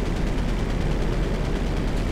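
Gunfire in Grand Theft Auto 5, a steady, rapid rattle of automatic shots blending into a dense, loud roar with no pauses across the short stretch.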